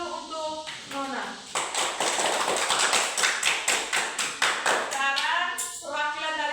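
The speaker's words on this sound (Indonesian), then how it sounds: "Oke, tepuk tangan dulu untuk Nona." A primary school classroom claps together for a pupil, a burst of sharp rhythmic unison claps close by, framed by brief speech before and after.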